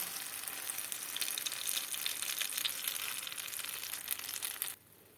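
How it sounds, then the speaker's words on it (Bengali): Blended chickpea paste hits hot ghee in a pan, setting off a steady, soft crackling sizzle that holds for several seconds, quiet and close, then cuts off abruptly. "প্যানের মধ্যে দিয়ে দিচ্ছি ব্লেন্ড করে রাখা ছোলার"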